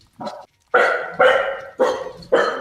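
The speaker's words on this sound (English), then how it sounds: "That was a puppy." A puppy barks five times in a quick, uneven series, each yap sharp and close, with brief pauses between them and no talking.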